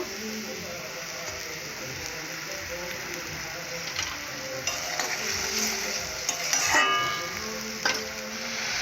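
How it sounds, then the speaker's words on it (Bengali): Fried fish is added to a curry in a pan and stirred, with a soft sizzle under scraping and clinking of a utensil against the pan while a person talks intermittently. "অল্প করে জল দিয়েছি দেওয়ার পর মাছ ভাজা ভেজে রাখা মাছ দেব"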